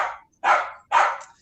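Neighborhood dogs bark outdoors in three loud, separate bursts about half a second apart, each sharp and full.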